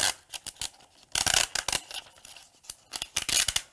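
An Infusible Ink transfer sheet is peeled off a bag in several close, crisp ripping strokes, short tearing bursts separated by brief pauses, with no talking.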